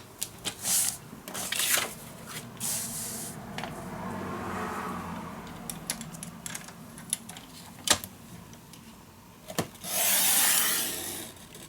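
Paper for a scrapbook mini album is scored with a tool, making soft rubbing, rasping strokes in short bursts with a few sharp taps, close and quiet, and there is no talking.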